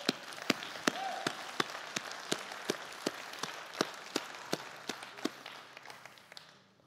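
Steady rhythmic clapping from a church congregation, sharp even beats repeating several times a second and continuing unbroken before fading at the end, with no voices over it.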